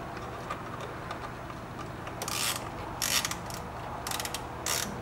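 Small, close ratcheting clicks come in several quick bursts as a screw is tightened on a dash cam and radar detector bracket inside a C7 Corvette, over a quiet background.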